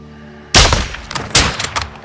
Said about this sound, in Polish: W dziesiątkę. Czysty strzał.